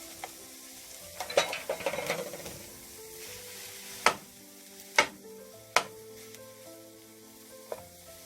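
Cooked rice is stir-fried in a pan for fried rice, with a soft sizzle, scraping and stirring early on, then several sharp spatula knocks against the pan. The whole passage is quiet and close.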